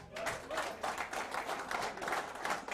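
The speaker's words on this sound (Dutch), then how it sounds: "geven we een applaus" Audience at the Wieerter Vastellaovendj Lidjes Festival 2021 claps in a steady, fairly faint round of applause that runs unbroken through the moment.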